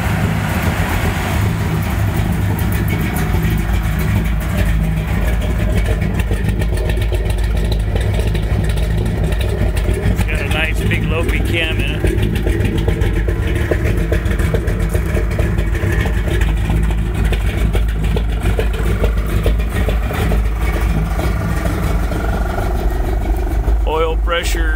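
A cold 1951 Dodge Power Wagon B-3PW idles with its fans running, a steady low engine rumble that stays loud and close throughout, with a voice over it.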